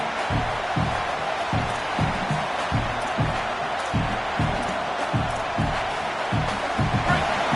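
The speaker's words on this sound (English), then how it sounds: "This crowd busting the decibel meter and trying to will a 4th down stop." Loud college football stadium crowd roaring steadily to disrupt a fourth-down play against Hawaii, a dense wall of cheering with rhythmic low pounding beneath it throughout.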